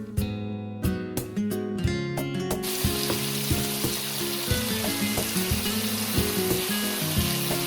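Pork chop frying in a pan, a steady close sizzle that fills in after a few seconds, under a tonal music bed.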